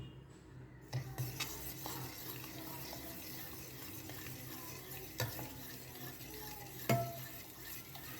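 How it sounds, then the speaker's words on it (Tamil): Rice flour pudding cake batter being stirred in a bowl makes soft, wet swishing with a few sharper utensil knocks at intervals, quiet and close, with no talking. "மிக்ஸ் பண்ணிக்கலாம்."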